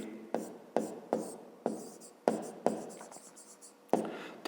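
Pen or pencil writing by hand on paper while solving a school math exercise, with a series of distinct scratching strokes that start sharply and fade, close and quiet, no talking.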